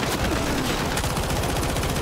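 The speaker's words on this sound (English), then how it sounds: "We're just shooting in there." Call of Duty DMZ firefight indoors: sustained automatic gunfire in quick repeated bursts, loud and continuous, with steady rattling shots throughout.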